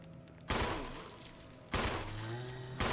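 Handgun shots at a zombie in the Resident Evil HD Remaster: three loud, sharp reports spaced about a second apart, each trailing off in a short echoing decay, close and without talk.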